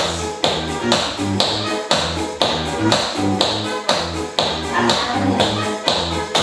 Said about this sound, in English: Good, little full beats on the floor.